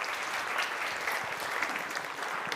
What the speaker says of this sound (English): Please, another round of applause for Camille.